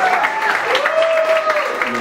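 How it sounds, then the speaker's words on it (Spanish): Applause for a Salvadoran fashion designer at an event, a moderate patter of clapping from the audience with a tonal voice or music line running over it. "Un aplauso para ella,"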